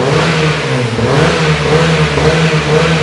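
A Honda Civic FD1 fitted with an Evo 8 exhaust revving up close, a loud, full steady engine drone that dips briefly and then climbs back, with no talking.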